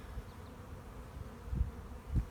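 Honey bees buzz around an open hive as frames are moved, a steady close hum broken by a couple of soft low thumps.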